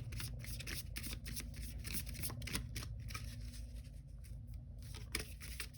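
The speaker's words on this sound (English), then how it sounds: "because I love to shuffle neatly." Cards riffle and rustle continuously in a quiet room, a soft rapid flutter with occasional taps, close and fairly faint.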